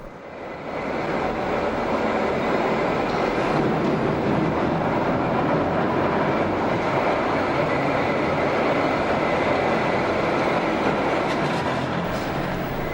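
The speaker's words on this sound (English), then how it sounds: "The Centovalli train leaves from the station." A Centovalli Railway train in Switzerland rumbles steadily along the tracks, a loud continuous roll with faint rhythmic clatter, close by and with no voices.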